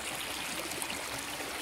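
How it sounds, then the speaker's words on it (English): A river near the Pistyll Rhaeadr waterfall in Wales rushes steadily, a dense broadband hiss of flowing water heard at moderate distance with no voices. "Here's the river at last."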